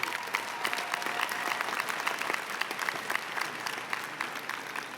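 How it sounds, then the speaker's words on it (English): Audience at the 2016 Johns Hopkins University graduation ceremony applauds the graduates, a steady dense clapping from a large crowd that holds at even loudness throughout. "let's give a warm round of applause as we commend these graduates on their accomplishments"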